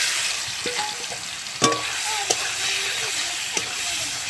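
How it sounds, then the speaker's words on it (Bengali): Fish rubbed with salt and turmeric frying in oil, a constant close hiss with a few sharp spatters and pops from the pan, no voices over it. "এবার আমি মাছটা ভালো করে ভেজে নেব।"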